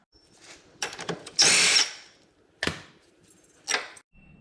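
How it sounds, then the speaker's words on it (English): A power tool spins off the 27mm hub nut on a Can-Am Renegade ATV wheel hub, with close, loud whirring bursts, one long sustained run among shorter pulses, and metallic clinks between them. "our next step is to get this cotter key out of here and remove this 27mm nut holding the hub on"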